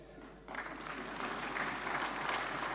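An audience at a national cooperative-bank conclave breaks into applause during a political address, with clapping starting abruptly after a quiet moment and swelling into a steady, full ovation.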